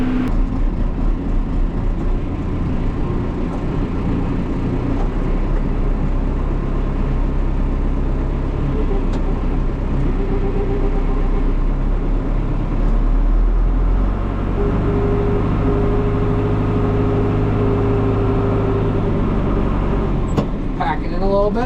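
A heavy tractor of about 82,000 pounds rolls down a farm driveway over a small pothole, its diesel engine a loud, steady low drone throughout, with a brief mechanical clunk and shift near the end.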